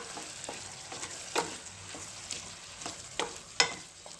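Mint paste being stirred into pulao rice in a frying pan: a faint, steady sizzle with intermittent spatula scrapes and light taps, the sharpest one near the end, quiet and close.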